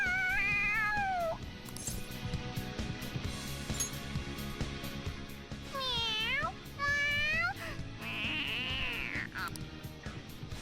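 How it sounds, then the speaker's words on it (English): A cat in Persona 5 Royal meows excitedly, with a series of rising and falling calls. A drawn-out meow comes first, then several quick close meows, then a longer whiny one, all over a steady game soundtrack. "The cat's acting awfully excited."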